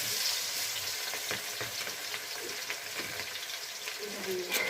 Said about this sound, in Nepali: हाम्रो घरमा ताजा ताजा ब्रोइलरको मासुको फ्राई हुँदैछ